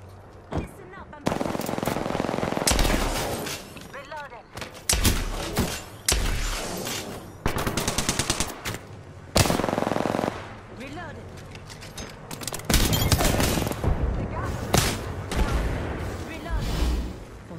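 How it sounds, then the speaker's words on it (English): Rapid automatic gunfire and bursts of shots crackle in the Apex Legends video game, loud and nearly continuous with short pauses, while voices speak intermittently underneath. "We're taking shots."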